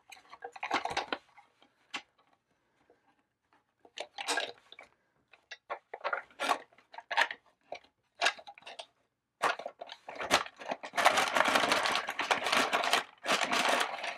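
A hand-cranked card shuffling machine works through a deck of board game cards, giving quiet, irregular clicks and rattles that build into a dense, continuous riffling whir near the end, with no talking.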